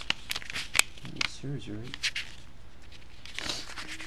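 Paper pages of a street map book being flipped and handled, with quick rustling, crinkling flicks scattered between bursts of close speech.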